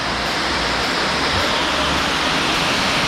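Napittachhara waterfall in Mirsarai, Chittagong pours with a loud, steady, close rushing roar that fills the whole stretch without a break.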